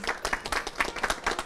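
A studio audience claps steadily after a Turkish song, a dense, even patter of many hands with no voices.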